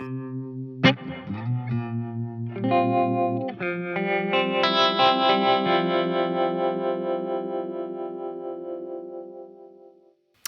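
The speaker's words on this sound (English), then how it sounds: "And the harmonic trem from the Flint." Electric guitar recorded at home through a Flint pedal's harmonic tremolo: a few plucked notes, then ringing, sustained chords with a wavering, pulsing shimmer that slowly fades out, alone with no talking.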